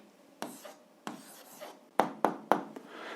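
A pen writing on paper, with quiet, close strokes and a few sharper taps in an uneven rhythm.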